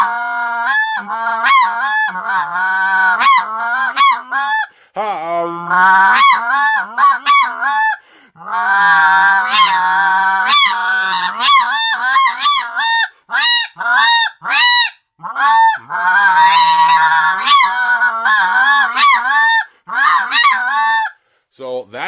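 A Triad Killer goose call blown by a person to imitate snow geese gives loud, close, rapid honks and yelps in quick repeated bursts, occasionally pausing briefly.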